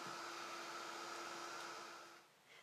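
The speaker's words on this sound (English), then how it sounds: "I'm just going to take my heat tool" A craft heat tool blows hot air to dry a distress stain background, a steady, close whooshing drone with a faint whine that eases off slightly at the end.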